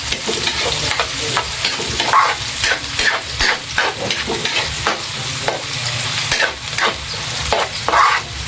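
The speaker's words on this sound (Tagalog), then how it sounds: "Lutuin po natin, igisa po natin sa mantika para masarap." Sliced onions sautéing in oil with garlic, a loud sizzle broken by repeated scraping stirs of a spatula, close and busy, with no talk.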